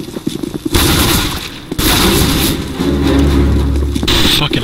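Counter-Strike: Global Offensive match on the Dust II map with dense rapid gunfire, loud bursts and sustained automatic shooting over a few seconds, mixed with game noise and occasional voice chatter.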